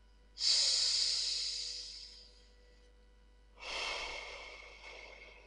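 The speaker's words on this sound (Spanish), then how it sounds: "Respirando profundamente, por favor dos o tres veces." A person takes two deep breaths during a relaxation exercise. Each is a long, close, airy exhale that fades slowly, with a quiet pause between them.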